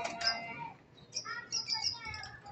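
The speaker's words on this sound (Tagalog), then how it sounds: "Yung mga kalapati natin." Pigeons in a loft at midday give short chirpy calls and tweets, several bursts close by over faint background noise.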